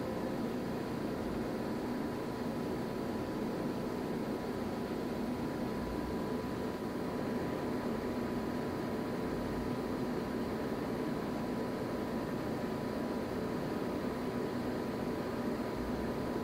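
A Monarch 14C engine lathe with 16-inch swing and 126-inch centers runs steadily at a changed spindle speed, giving a constant machine hum and whir throughout with no talk.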